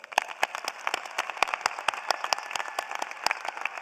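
Applause from a commencement audience honoring graduating College of Social Work students: a moderately loud round of distinct, individually audible claps with sharp, uneven strikes that stay fairly sparse and keep a steady pace throughout.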